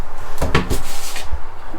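A medicine cabinet door in a 2024 Alliance 310RL RV swings open or shut with a few close, loud wooden knocks and a soft thud, alone without talk.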